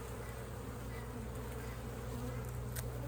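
A dense, continuous buzz from a mass of honey bees in an opened hive while a brood frame is inspected, droning steadily and close at an even loudness throughout.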